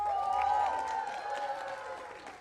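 Wedding guests applaud in a steady, crowded patter for a couple of seconds, mixed with a sustained tonal background.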